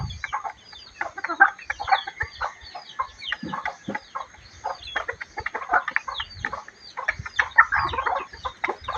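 Hens clucking and a rooster calling on a rural farm in Bohol, Philippines, a busy chorus of overlapping clucks and short calls throughout, near and moderately loud with no talk.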